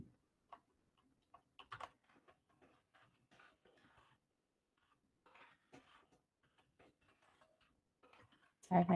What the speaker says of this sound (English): Sorry if my typing's pretty loud.